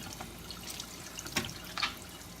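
Organic home-grown vegetables rinsed under a running kitchen tap, a steady soft stream of water with a few brief splashes and drips, fairly quiet and close, with no talking.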